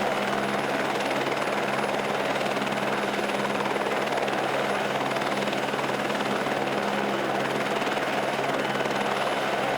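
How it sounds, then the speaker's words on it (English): A helicopter's steady, loud rotor and engine roar holds unbroken and close throughout, with no voices over it. "The helicopter will then take off."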